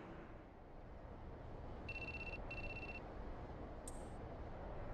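A phone rings in Shin Megami Tensei III: Nocturne HD Remaster: two short, faint electronic ring bursts over a steady background hum, followed by a brief high chirp.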